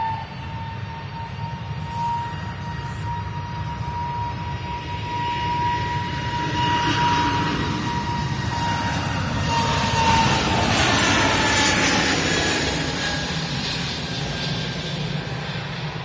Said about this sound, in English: SAS A320neo going back to Copenhagen